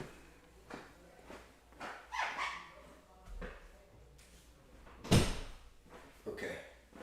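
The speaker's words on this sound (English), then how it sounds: "There's somebody's dog barking out there." A neighbour's dog barks outside, muffled and somewhat distant, mixed with knocks and thuds as an indoor door is pushed shut; the bumps and barks come irregularly over a low room hum.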